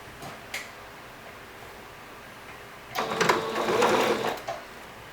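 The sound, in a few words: sewing machine sewing a straight stitch on fabric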